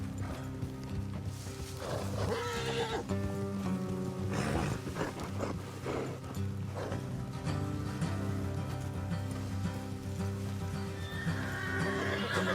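Horses in the video game Red Dead Redemption 2 whinny and snort over clip-clopping hooves, with a soft rain-like hiss and background music underneath, no speech.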